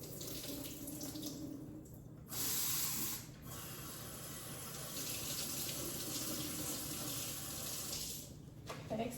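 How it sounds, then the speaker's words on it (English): Steady running water from a faucet splashes over green beans in a sink, with brief louder gushes as the flow shifts; no talking. "I pour that liquid off and rinse the green beans off"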